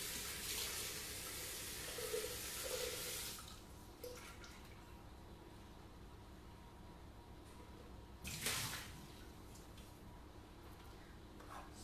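Thermomix bowl rinsed under a kitchen tap: a steady rush of running water, close and moderately loud, easing after a few seconds, then a short splashing surge before the flow continues more quietly.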